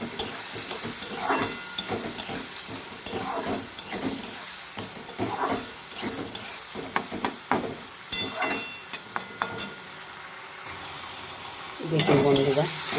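Koi fish and bottle gourd sautéing in a pan, a continuous close sizzle broken by frequent scraping and stirring strokes, ending with a louder hiss.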